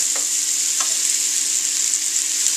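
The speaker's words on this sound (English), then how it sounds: "Let me finish getting these mushrooms sauteed up." Mushrooms sautéing in a pan with butter give a loud, steady hiss of frying sizzle, close up, with a couple of faint stirring taps in the first second.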